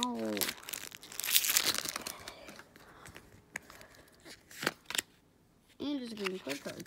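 A Pokémon Evolutions booster pack wrapper is torn and crinkled open, with loud bursts of foil ripping and crumpling, then shuffling of the cards inside, while a person talks over parts of it.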